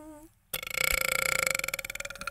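A loud, rough, pulsing burp bursts out close after a brief moment of a higher vocal sound, its rapid rattling throb lasting nearly two seconds.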